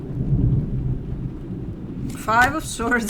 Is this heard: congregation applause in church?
no